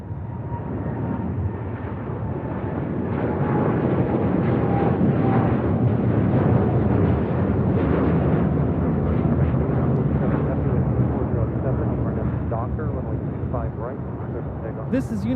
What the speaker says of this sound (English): 801 taking off to Hong Kong on a 787-9 Dreamliner